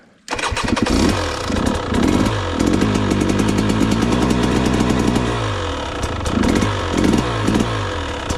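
A KTM 300 TBI two-stroke motorcycle starts with a bit of throttle, catching abruptly and settling into a loud, close, crackly idle with repeated blips of revving throughout.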